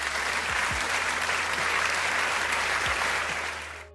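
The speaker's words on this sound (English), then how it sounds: "So can we give him a bigger round of applause" An audience applauds at a medical college orientation program, with dense, sustained clapping from a crowd that stays steady and loud, then begins to fade at the end.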